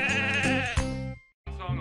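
Sheep bleats in a production company logo bumper, a loud, close, wavering bleat followed by a brief silence and a second shorter bleat.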